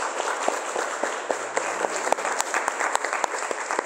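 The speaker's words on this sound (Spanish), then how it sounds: "Dale ese fuerte aplauso al Señor." Congregation applause during a church service, dense clapping from many people with a few sharp individual claps popping out, steady and moderately loud throughout with no talk.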